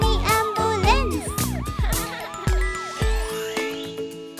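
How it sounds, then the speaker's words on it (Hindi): A cheerful animated children's song about an ambulance, with bright musical tones and a rising-falling siren-like melody repeating through the loud, busy mix; no talk. "देखो, एक एम्बुलेंस, नीना नीना।"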